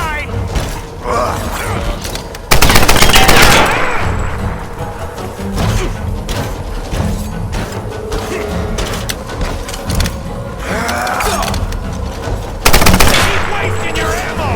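Enemy gunfire in the Tomb Raider reboot crackles in loud bursts of automatic fire, with two especially dense volleys amid mechanical clanks and thuds, while voices shout over the action.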